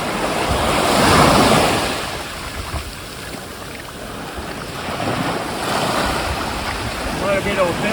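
Ocean waves washing in and surging against the shore, with rising and falling swells and wind buffeting the microphone, fairly close and moderately loud.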